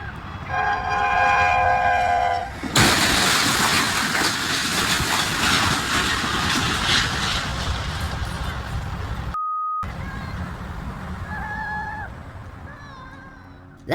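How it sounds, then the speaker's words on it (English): An Amtrak train slams into a semi truck loaded with cars stuck on the tracks in Oklahoma: a loud horn gives way to a sudden heavy crash and a long grinding roar. A brief tone, then quieter rumbling and a few more horn notes. "That Amtrak train obliterated those cars."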